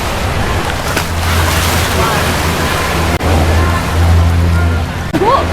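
Wind and surf wash over a beach in Krabi as a dense, continuous roar with a low rumble, close and loud throughout, with a couple of sharp bumps near the microphone.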